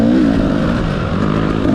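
A 2020 TX300 two-stroke dirt bike engine runs steadily close by, a loud continuous buzzing drone with a slight rise and fall in pitch and no voices.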